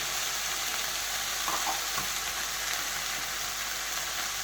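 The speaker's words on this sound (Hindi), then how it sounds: "तो थोड़ा सा भूनने के बाद हम इसमें अपनी सब्जियां डाल देंगे जो हमने काट के रखी हुई हैं। प्याज, शिमला मिर्च" Chopped onions and capsicum frying in a pan for stuffed pizza bites, a steady broadband sizzle with a couple of brief stirring clinks, close and constant without speech.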